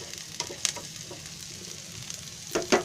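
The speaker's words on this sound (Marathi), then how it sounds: "त्याच्यामध्ये आता मिरची टाकते, लसूण, कढीपत्ता आणि असं हे परत हलवायचं जरा." Onion fries in hot oil with chili, garlic and curry leaves for an egg sabzi, giving a soft steady sizzle broken by a few scraping stirs, close by and without talk.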